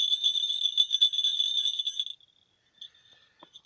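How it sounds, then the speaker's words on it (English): Christmas bells jingle brightly and steadily for about two seconds, then stop abruptly, leaving near silence with a faint clink or two at the end. "All right, now bells."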